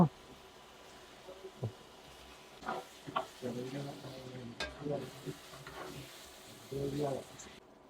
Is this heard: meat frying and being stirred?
yes